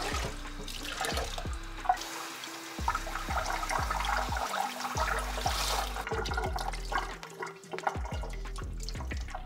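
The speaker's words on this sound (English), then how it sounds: "I'm just gonna water it in the kitchen sink here" Tap water running into a kitchen sink while a potted houseplant is watered, a steady splashing stream with drips, mixed with soft background music and no talking.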